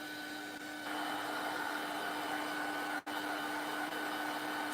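A heat tool dries a layer in a mixed-media art journal, giving a steady close whirring drone with a constant hum. It drops out for a split second partway through, then resumes.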